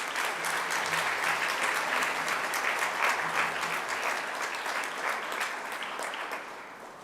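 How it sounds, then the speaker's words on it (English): Audience applause at a Grade 9 school prize-giving ceremony, a steady dense clapping from a crowd sustained throughout and tapering slightly at the end. "We can give them a round of applause."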